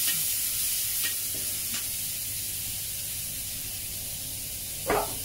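Pork belly fries in a wok after wine is poured in, giving a continuous loud sizzling hiss with a few scraping stirs and a brief louder burst of spatter near the end.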